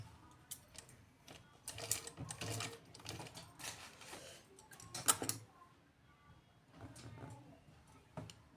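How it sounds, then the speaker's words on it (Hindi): A sewing machine stitching elastic into a pair of pants runs in short bursts of rapid mechanical clatter with pauses between, close and moderately loud. "अब मुझे इसको सिलना है"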